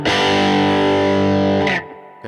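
A high-gain cranked amp model on a Tone Master Pro with the bass turned all the way down plays a loud, sustained distorted chord that rings for over a second before being cut off, with a brief strum at the end.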